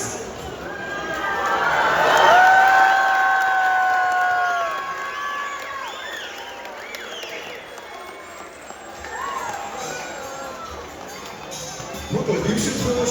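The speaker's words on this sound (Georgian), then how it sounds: "dolphins communicate with each other through sounds" Dolphins at a show let out a series of rising and falling whistles, loudest early and then fading into scattered chirps, while a crowd chatters and people talk nearby.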